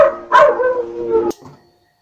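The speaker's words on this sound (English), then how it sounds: "Me talk about the dog here in the background." Dog in the background barking and howling, a few drawn-out howling yelps followed by a short trailing bark that dies away into quiet.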